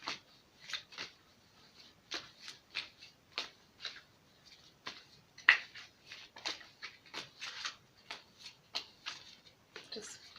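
Tarot cards are shuffled quietly and close by, giving a rapid string of soft papery riffles and taps with brief pauses between bursts.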